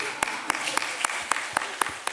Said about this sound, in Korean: 박수를 치시면서 정말 같이 그럼 쳐요